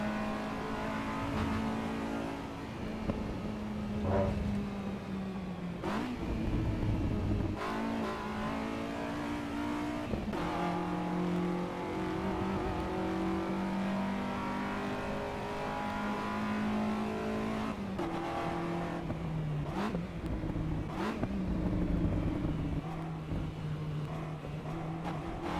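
Race cars in the AC Evo racing game drone and rev through gear changes, the engine note rising and dropping repeatedly with sharp shifts, loud and close throughout, with no talking.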